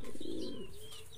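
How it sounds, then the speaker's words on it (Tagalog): Racing pigeons coo nearby, a low, soft, rolling burble at close range with faint chirps of other birds in the background. "ito na yung tatlo kong kalapati"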